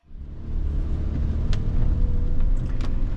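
A 2025 Volkswagen Atlas Peak Edition SUV cruising on the road, a steady low rumble of engine and tires building from the start and holding loud and even, with a few faint brief clicks on top.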